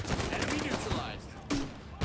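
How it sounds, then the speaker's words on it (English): Gunfire in The Division 2 video game rattles in rapid bursts, a dense volley of shots with a sharper crack near the end, moderately loud. "You guys are really smart shooting at my decoy like that."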